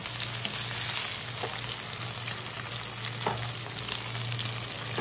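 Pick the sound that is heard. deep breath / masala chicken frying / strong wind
masala chicken frying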